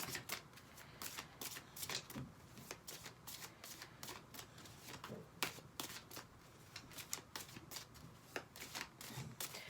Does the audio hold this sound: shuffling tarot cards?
yes